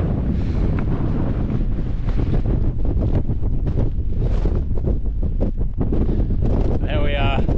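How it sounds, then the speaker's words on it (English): Strong, continuous wind roars across the microphone on the Pike of Blisko summit in the Lake District, buffeting loudly throughout with gusty rumble and a voice speaking over it. "it's definitely breezy up here"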